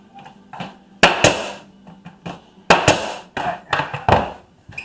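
Hammer driving nails into a pine baseboard, a run of sharp, close knocks in irregular clusters, some blows ringing slightly, with no talk.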